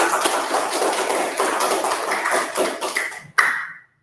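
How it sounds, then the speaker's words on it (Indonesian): A sixth-grade primary school class applauding together, a brisk burst of many hands clapping that fades out, with a final sharp clap at the end. "Tepuk tangan untuk kita semua."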